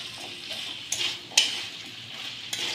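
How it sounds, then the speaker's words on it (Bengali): Boiled potato and chickpeas being mixed with spices using a spoon in a pot, giving soft continuous scraping and stirring with a few sharp metallic clinks of utensil against the pot, close up and without talking. "তারপর মশলার সাথে মিশিয়ে নিচ্ছি"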